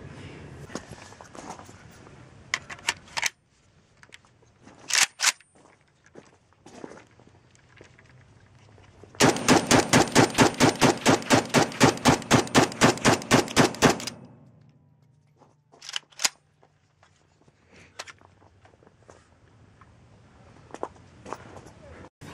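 AK-47 rifle firing a rapid string of about twenty loud, evenly spaced shots, surrounded by scattered single bangs and some outdoor speech before and after.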